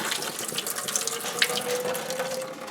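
Tap water runs steadily from a kitchen faucet into a cooking pot after draining potatoes for a meatloaf meatball stew, a continuous close splashing stream with no talk.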